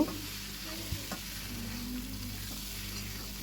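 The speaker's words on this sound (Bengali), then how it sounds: "এখন মাছগুলোও মশলার সঙ্গে একটু মিশিয়ে নেব, হালকা একটু কষিয়ে তারপরে একটু ঝোল দিয়ে দেবো।" Koi fish (climbing perch) stirred and fried with spices in a pan, giving a low continuous sizzle broken by a couple of brief scrapes, with nobody speaking.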